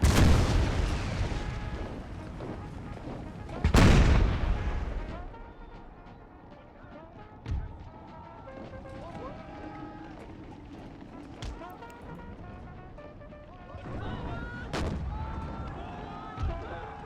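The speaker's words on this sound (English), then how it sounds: "those howitzer shots really count" Howitzer artillery fire in the video game Empire: Total War, American Civil War mod: heavy booming shots with crackling fragments, loud blasts spaced through the battle, with someone talking over the game sounds.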